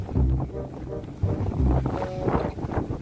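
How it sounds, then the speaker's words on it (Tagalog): Strong wind buffets the microphone with a low, roaring rumble throughout, gusting unevenly and drowning out quieter background sounds. "ang aking video na malakas ang hangin, ang background. Maingay."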